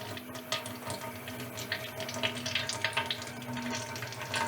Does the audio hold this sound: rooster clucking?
no